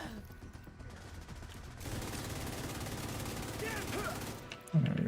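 Gunfire in The Division, rapid automatic bursts running continuously, moderately loud, with a sharper burst near the end.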